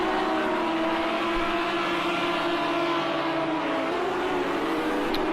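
GT3 race cars, Lamborghinis and an Audi, in a sim racing game, exiting a corner with a steady, loud engine drone and rising whine that stays constant, no talk over it.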